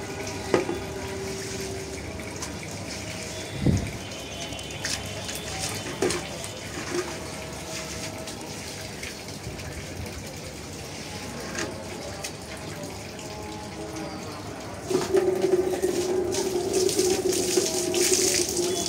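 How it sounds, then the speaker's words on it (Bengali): Water poured and splashed while a sacrificial cow is bathed and shampooed for Qurbani, a steady running trickle throughout that grows louder and fuller near the end, with a few brief knocks. "শ্যাম্পু দিয়ে সুন্দর করে গোসল করানো হচ্ছে।"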